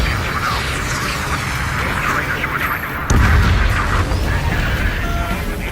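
Missile launch and explosion in the jet combat game Ace Combat 7, a loud burst at about three seconds hitting with a deep boom over continuous roaring engine and battle noise, with radio chatter voices throughout.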